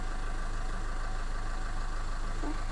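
A tractor engine idles nearby with a steady low chugging drone that holds constant throughout, no talking.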